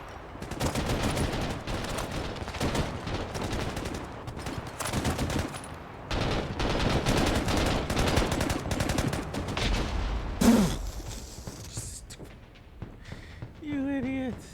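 A heavy machine gun team fires in the military video game Broken Arrow, with dense rattling bursts of gunfire through most of the stretch, broken by short gaps, and players talking over it.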